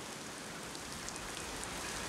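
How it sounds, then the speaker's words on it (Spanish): Steady rain falls, a dense soft hiss of drops with scattered pattering, faint and continuous with no voices. "Está lloviendo."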